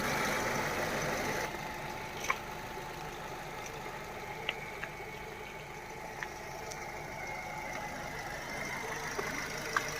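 A 2023 Maruti Ertiga Smart Hybrid car's engine runs at a steady idle, a low, even drone heard up close with a few faint clicks and ticks over it.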